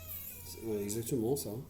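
A cat meowing and grumbling indoors beside knife sharpening on a Japanese whetstone, a couple of rising, wavering cries that overlap a person's brief speech.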